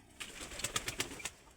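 Pigeons kept in pairs at a breeding loft coo softly in several short, fairly faint pulses, with a few quick rustles mixed in.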